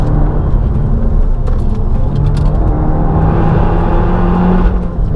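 Peugeot 308 R Hybrid car accelerating hard, heard loud from inside as a steady, dense engine and road roar that holds for several seconds with a slight dip near the end, no talk.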